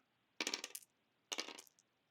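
Dice rolling down a lucky dice tower in a strategy video game, heard as two short bright rattling clatters about a second apart, each tumbling briefly then stopping.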